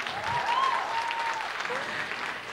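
Sustained applause from a school-show audience in the Jean Léger hall fills the whole stretch, steady and dense, with a faint tonal whistle-like line drifting above the clapping.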